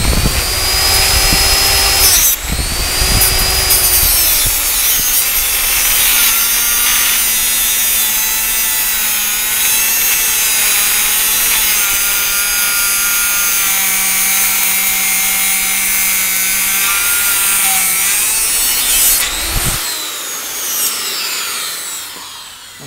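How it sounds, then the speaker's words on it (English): Straight die grinder grinding off a metal stub, a loud, steady high-pitched whine that runs continuously for about twenty seconds, pitch shifting slightly under load, then winds down near the end. "I take a die grinder. This one's a straight one. You could use an angle grinder. And I grind this off"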